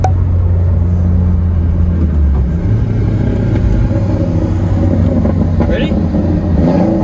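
A Civic Type R and a tuned Subaru WRX make a 30 mph roll race, heard from inside a car as a loud, steady engine drone that rises in pitch under acceleration. Someone speaks over it.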